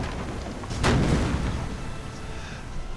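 Naval gunfire in a video game battle against the German cruiser Graf Spee: one loud, close boom around the one-second mark, with its rumble trailing off over a steady low background.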